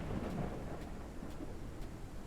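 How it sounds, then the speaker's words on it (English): Video game thunderstorm: low rumbling thunder rolling underneath steady rainfall, fairly quiet and continuous, no talking. "Yeah, lightning's sounding very angry."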